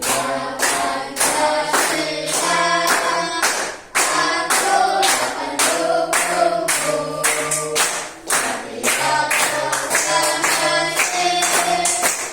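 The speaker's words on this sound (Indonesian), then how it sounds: "Sambil tepuk-tepuk ya, biar semangat." A group of people, as in a school class, claps in rhythm along to a loud patriotic song, the clapping steady and mixed under the music throughout.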